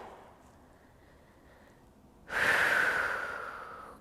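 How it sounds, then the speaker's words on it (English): One deep, audible exhale to slow the heart rate during a beginner yoga flow on a beach, close and breathy, swelling suddenly and then tapering off after a quiet, faint inhale. "I try to bring all my breathing back to neutral, and I try to bring my heart rate back down."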